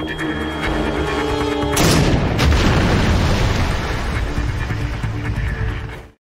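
Explosion in a film scene: a sudden loud blast at about two seconds breaks through ongoing sound, then a dense rumbling roar and debris continue for several seconds before cutting off.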